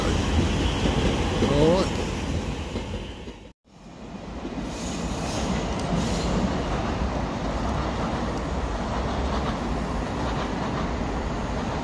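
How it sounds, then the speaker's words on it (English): A train rumbles past along the line near Stratford in the early morning, a broad steady roar that dips briefly and then continues at a distance, with someone briefly speaking over it. "Nice train."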